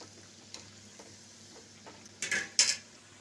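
Garelu, lentil fritters, fry in hot oil while a metal utensil flips them, with a few soft ticks followed by two louder scraping clinks near the end over a low background.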